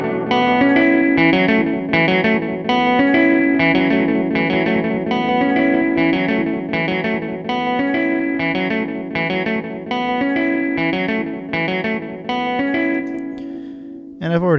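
Repeated electric guitar notes played in a steady pulse with a short slapback delay echo trailing each one, heavily processed with effects, followed by a brief pause.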